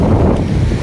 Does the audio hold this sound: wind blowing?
yes